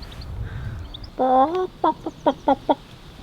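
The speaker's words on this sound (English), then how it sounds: "You can probably hear the chickens right behind me" A hen gives a drawn-out squawk followed by a quick series of short, rhythmic clucks, fairly close against a quiet outdoor background.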